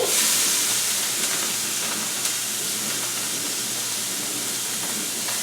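Chopped peppers and onions hit hot oil in a pan and sizzle loudly and steadily, a dense hiss that holds at an even level throughout with no talking.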